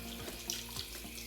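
Cold water is poured from a tap over freshly curdled homemade paneer in a kitchen, giving a brief, steady, faint splashing stream.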